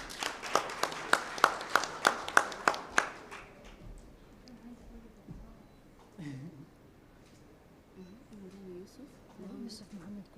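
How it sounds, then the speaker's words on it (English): A brief burst of steady, rhythmic hand clapping, about ten claps, at an awards dinner at Serena Hotel, Nairobi, stops after a few seconds, and then people talk quietly. "A round of applause for him."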